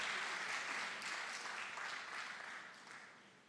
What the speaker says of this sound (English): Let us give a round of applause for all our achievers.